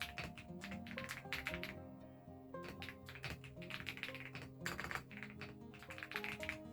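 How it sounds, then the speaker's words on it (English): Fast, irregular typing on a computer keyboard, dense bursts of close clicking keystrokes with a couple of short pauses, quiet and unaccompanied by speech. "I'm just gonna type up a little blurb to explain it"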